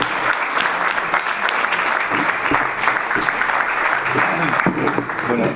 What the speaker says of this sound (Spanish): así que un aplauso muy fuerte también para Eduardo.